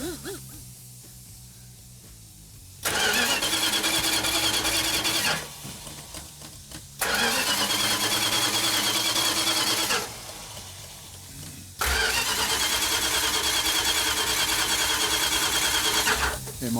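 An engine cranks over without firing because it has no fuel. Three long stretches of steady, loud, whirring starter churning are separated by short quiet pauses.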